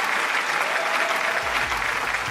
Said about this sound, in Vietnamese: hãy dành một tràng pháo tay dành cho Ngô Kinh Lâm và Thảo Trang